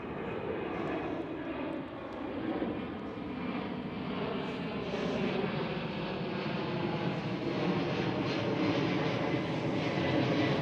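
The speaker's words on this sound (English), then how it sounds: "there is the Airbus A300 of" DHL Airbus A300 cargo aircraft at Schiphol Amsterdam: a steady, moderately loud jet engine roar with tonal whine, growing slightly louder over about ten seconds, no talk.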